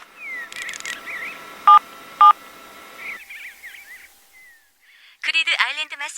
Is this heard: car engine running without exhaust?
no